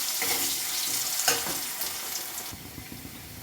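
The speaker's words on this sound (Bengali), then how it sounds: "আলুটা ভালো করে ভেজে নিলাম" Potato pieces seasoned with salt and turmeric fry over low heat in a pan for a kaccha kola kofta, giving a steady close sizzle with occasional stirring scrapes and no talk.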